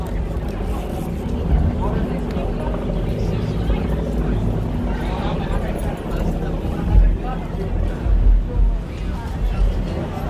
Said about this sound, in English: That's the chopper right there.